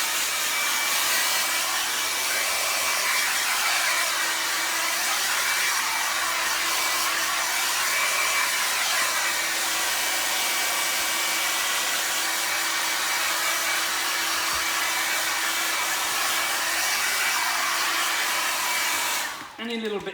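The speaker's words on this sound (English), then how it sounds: "Quick dry again with the hairdryer." A hairdryer blows on leather being repaired after an alcohol wipe, a loud, constant whirring roar held for about twenty seconds before it abruptly switches off.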